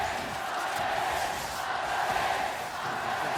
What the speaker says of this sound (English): Feel the crowd only getting louder.